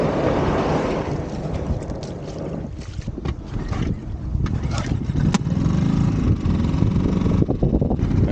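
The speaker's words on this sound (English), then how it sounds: "All right, let's get the boat in the water." A boat slides into a lake amid gusty wind buffeting the microphone, with watery sloshing and hull knocks rising in a steady broadband wash over several seconds.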